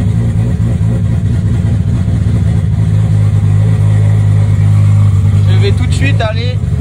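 A turbocharged BMW 325i E36 runs rich just after a cold start, its engine holding a steady, loud, close low drone throughout, with a few brief higher sweeps near the end.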